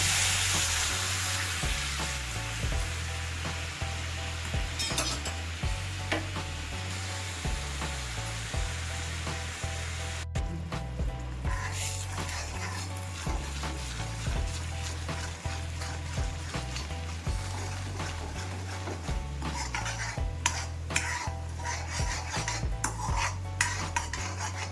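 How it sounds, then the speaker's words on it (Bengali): Sugar with a little water cooking into caramel in a wok for sweet yogurt, a soft, steady bubbling sizzle under repeated clinks and scrapes of a stirring utensil, with a low humming drone throughout. "ক্যারামেল তৈরি করতে খানিকটা চিনি কড়াইতে দিয়ে দিচ্ছি।"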